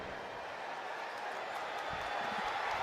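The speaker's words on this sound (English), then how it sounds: "you're going to hear this crowd go crazy with the call from John Hockley" Stadium crowd at an NFL game between Kansas City and the Ravens, a steady roar of cheering that swells slightly toward the end, heard alone with no voice over it.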